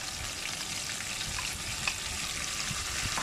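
Onion, ginger, garlic and green chili paste frying with chicken in a karahi, a steady close sizzle and hiss with faint stirring clatter, no talk.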